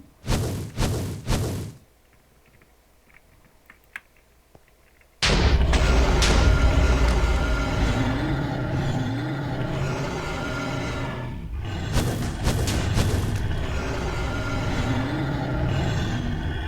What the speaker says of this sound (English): Finally got hit by a mortar